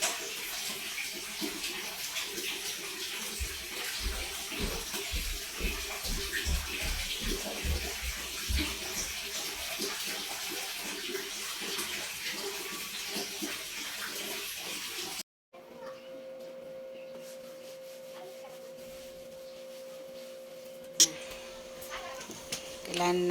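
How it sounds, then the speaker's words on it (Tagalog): A toilet that keeps flushing nonstop sends a steady hiss of running water in a home bathroom. It carries on for about fifteen seconds, then cuts off abruptly, leaving a quieter hum and a faint click. "Kailangan natin patayin yung tubig sa CR at continuous flushing na."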